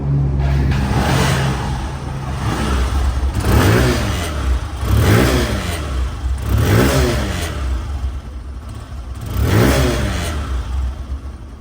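A 2024 Hero Ignitor Xtec motorcycle in showroom condition revs up close about five times in a row, each throttle blip swelling and falling back toward a steady running engine.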